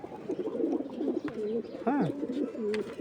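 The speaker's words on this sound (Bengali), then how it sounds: "এই যে কয়টা কবুতর আমার এখানে।" Pigeons cooing in a loft of numbered female and male birds, repeated throaty rolling coos layered close together and continuing steadily, with one louder swooping call near the middle.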